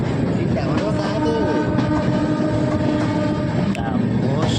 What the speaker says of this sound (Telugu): the most famous train Secunderabad Howrah Falaknuma super fast express